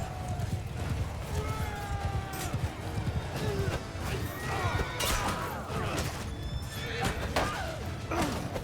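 A horse whinnies several times in high, wavering calls in a Mount & Blade II: Bannerlord battle, over a busy backdrop of clopping hooves and battle noise, with someone talking intermittently.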